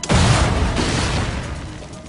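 A test blast of dynamite goes off as one sudden, loud, deep boom, followed by a rumbling, crackling tail that slowly decays over about two seconds.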